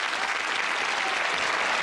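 Studio audience applause on a darts game show, a short burst of loud, dense, continuous clapping close up and without talk.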